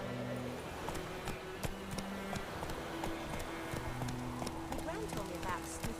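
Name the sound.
horse galloping in video game The Witcher 3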